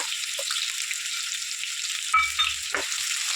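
Chopped onion from one large bulb sizzles steadily in about three spoons of hot oil while boti fry is cooked, a constant close hiss broken by a few clattering stirs near the end.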